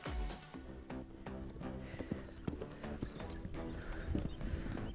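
A horse canters during eventing training, its hooves clip-clopping in a quick, steady rhythm close by while an instructor calls out over it.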